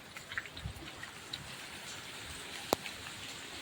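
Heavy rain falling on a flooded rooftop terrace, a soft, steady patter with a few scattered louder drops and one sharp knock, fairly faint and with no talk.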